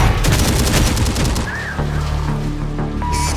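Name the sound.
gunfire and explosions in a war video game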